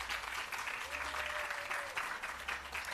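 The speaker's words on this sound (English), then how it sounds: "can I get a round of applause to the BSJ?" Faint, continuous audience applause at a public relations campaign launch event for the Bureau of Standards Jamaica, an even spread of clapping heard from a distance with a low hum beneath it.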